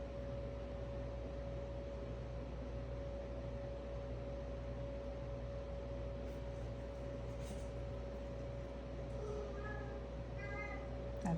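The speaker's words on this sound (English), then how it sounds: "That is my cat." A pet cat meows a few times, faint and short, near the end, over a constant hum of room noise.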